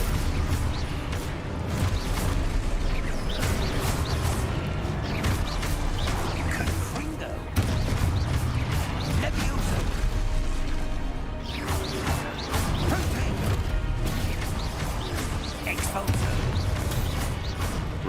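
Spell effects cast in the video game Hogwarts Legacy: loud, dense magical bursts, blasts and crashes layered over game music and ambience, with a voice calling out spells throughout.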